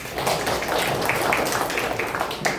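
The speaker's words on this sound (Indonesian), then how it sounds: "Tepuk tangan buat Siva." A classroom full of students gives a student a round of applause, with brisk, scattered clapping that is steady and fairly close for a couple of seconds.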